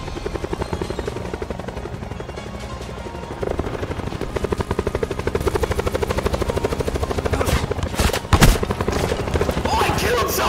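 A helicopter in a video game flies low, its rotor beating loud and steady throughout, growing heavier after a few seconds, with gunfire-like bursts and impacts cutting in near the end.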